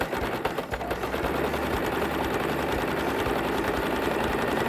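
A sewing machine runs continuously while stitching cloth, a steady, fairly loud mechanical whir close by with no pauses.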